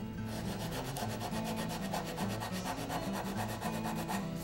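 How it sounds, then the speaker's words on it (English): Sandpaper scrubs a wooden shotgun buttstock at the wrist and head of the stock in rapid back-and-forth strokes, a close, steady rasping rhythm with no talk. "As the paper wears down, I simply tear off the worn part, exposing a fresh surface, and continue sanding."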